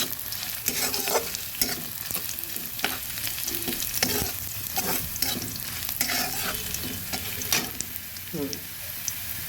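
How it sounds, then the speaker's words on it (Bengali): Poppy seed and green chilli paste frying with onions in a pan, a steady loud sizzle broken by repeated scraping strokes of a spatula stirring throughout, close up with no talking. "পেঁয়াজটা যখন ভাজা হয়ে আসবে তখন দিয়ে দেব পোস্ত আর কাঁচা লঙ্কা বাটাটা আর একটু ভেজে ভেজে নিচ্ছি"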